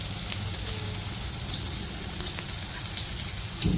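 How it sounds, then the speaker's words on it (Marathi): Shallow frying in an iron kadhai in the evening, giving a faint, steady crackling sizzle with a low background hum throughout. "इथं शॅलो फ्राय सुद्धा चालू आहे लोखंडाच्या कढईमध्ये"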